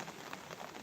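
Light rain falling during Typhoon Krising, a steady soft patter of drops on surfaces, faint and continuous with no voices.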